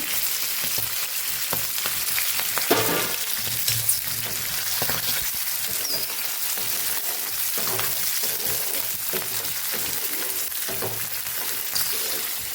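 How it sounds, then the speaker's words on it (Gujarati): Mixed winter vegetables sautéing in a little hot oil in a Kathiyawadi-style pan, a constant loud sizzle with occasional stirring scrapes and knocks, close and without talk. "આ શાકભાજીને ઓછું તેલ મૂકી અને સરસ સાતળી લેવાનું છે"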